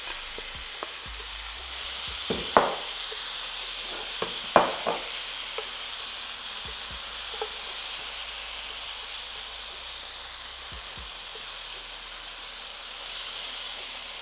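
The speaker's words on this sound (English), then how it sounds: "I'm just gonna toss that into the pan, making sure it's well oiled up." Steak bites sizzle in a well-oiled hot pan with a steady bright hiss, broken by several sharp clacks and scrapes as pieces are placed and shifted, close and fairly loud with no talking.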